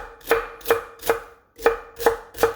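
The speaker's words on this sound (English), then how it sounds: "So same thing, we're just gonna cut this up." A knife chopping vegetables for a bok choy salad on a cutting board, six sharp close thuds in an even rhythm with a short pause midway, no talking.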